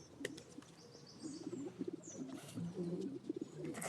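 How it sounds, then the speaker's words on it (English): Pigeons coo softly in a low repeated burbling rhythm, with faint chirps and a bit of wing flutter nearby; quiet overall, without talking. "Those pigeons."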